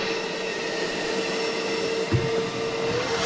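A wet vac roars steadily close by as it sucks water out of a hot tub, a constant whining motor drone with a brief gurgling bump partway through.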